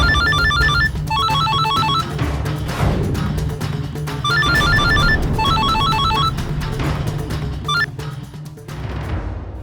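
A phone ringtone plays in repeated bursts of bright electronic chiming tones, pausing between rings, over a busy, noisy background.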